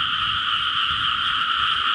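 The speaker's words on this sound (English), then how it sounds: "Normally it's quiet, but the frogs are going crazy." Hundreds of frogs croak together at night around an old Thai house after rain, a dense, loud, continuous chorus with no gaps, no other sounds.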